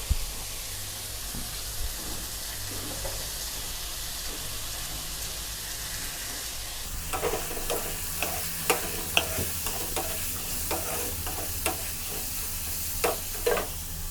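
Shrimp tossed into hot Chinese sausage oil in a wok, a quiet sizzle swelling into loud crackling spatter with sharp pops and stirring scrapes, no talk.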